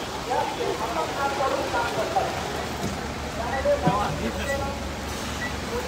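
Heavy monsoon rain hisses steadily over a surface in Kalyan during a civil defence mock drill, a dense unbroken downpour with faint voices murmuring beneath it.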